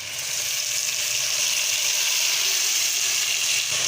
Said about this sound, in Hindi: प्याज का लाइट कलर हो जाए तो अब हमने ये जो टमाटर हरी मिर्चें ग्राइंड की हैं ये इसमें हम डाल देते हैं